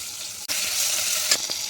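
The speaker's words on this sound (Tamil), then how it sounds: "வெங்காயம் தக்காளி நல்லா வதங்கிட்டு இப்போ இஞ்சி பூண்டு பேஸ்ட் போட்டுக்கலாம்." Ginger garlic paste dropped into onion and tomato frying in a pan for a goat blood and lung gravy, a steady close sizzle broken by a brief gap, then a couple of soft stirring scrapes.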